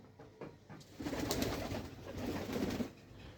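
Pigeons in a loft coo in low, rolling bursts close by, with two swelling phrases and no talking.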